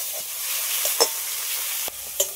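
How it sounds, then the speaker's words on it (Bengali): Chili and cumin powder spice paste frying in oil, a soft steady sizzle with a few brief stirring scrapes and clinks, close and moderately quiet. "লঙ্কার গুঁড়ো, জিরার গুঁড়ো, সবগুলো একসাথে একটু ভালো করে কষিয়ে নেব।"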